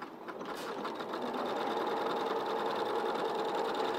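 A sewing machine stitches a blue fabric mermaid toy, its rapid needle motion humming in a steady mechanical whir that holds close and continuous throughout.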